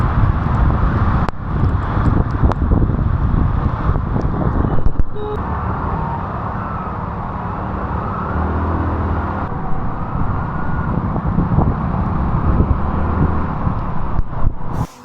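A car drives along a rain-soaked, waterlogged road near Lonavala, close to Pune, on the way to Bhushi Dam. Steady, close road and engine rumble with tyre hiss runs throughout, without breaks.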